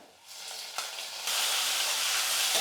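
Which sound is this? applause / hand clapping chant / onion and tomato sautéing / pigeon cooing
onion and tomato sautéing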